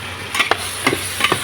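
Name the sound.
crab dish ingredients frying and stirring in a pan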